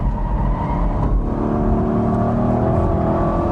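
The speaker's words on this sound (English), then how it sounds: "You could actually hear the rear tires spin just a little bit going over the hill." A 2002 Corvette C5 Z06 on a hilly race track, its engine droning steadily and loud at close range with a faint hint of rear-tire spin as it crests a rise, no talk.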